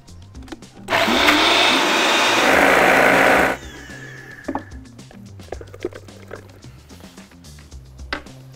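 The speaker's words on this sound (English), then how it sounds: "Got it in the blender now." A kitchen blender whirs loudly for about three seconds, mixing an apple mixture with a stick of butter. It then cuts off, leaving soft clinks and handling noises at a lower level.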